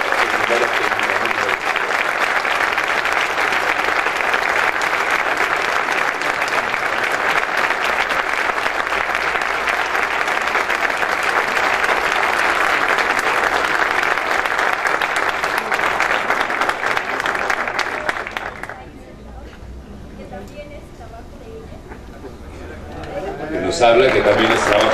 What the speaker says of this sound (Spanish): Un aplauso a la escuela.